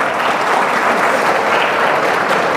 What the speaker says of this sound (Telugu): ఏకీభవిస్తేనే చప్పట్లు కొట్టండి